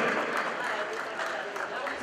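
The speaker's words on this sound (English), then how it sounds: "can we have a huge round of applause for Mr." Audience applause for artist Jahangir Jani at an Aldo collection launch event: dense, steady clapping from a crowd that holds at an even level for the whole stretch, with voices mixed in underneath.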